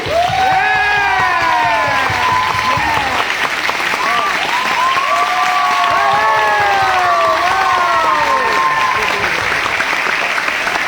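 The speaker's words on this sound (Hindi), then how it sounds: "तो एक बार जोरदार तालियां मोदी केयर के लिए हो जाए।" A large audience breaks into loud, sustained applause and cheering at a success-story event, dense clapping filling the whole stretch with shouted voices rising and falling over it.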